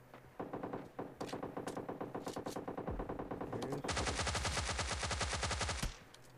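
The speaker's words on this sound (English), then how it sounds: "Dang, somebody's shooting me." Automatic and single gunfire in the battle royale game PUBG Lite: steady rapid bursts of shots, then a sustained heavier stream of automatic fire from about 4 s to 6 s, loud and close, with no voices.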